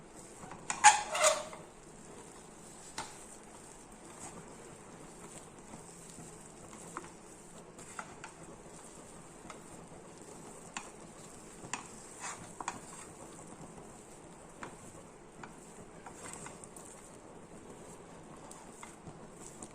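A spoon stirs thick adai batter in a pan, making faint intermittent scraping and tapping sounds. A louder clatter comes near the start, with a quiet background hiss throughout.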